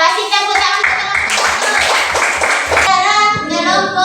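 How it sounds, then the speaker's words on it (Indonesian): A classroom of students claps hands together in a short, lively burst lasting about two seconds, surrounded by children's voices and talk before and after. "Ya, kasih tepuk tangan."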